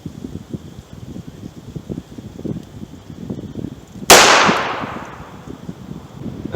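A single sharp gunshot from a .357 Magnum firing a 170 grain lead semi-wadcutter round cracks loudly outdoors, then decays into a brief echoing tail over faint background noise.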